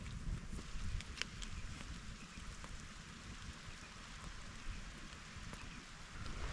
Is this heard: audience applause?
no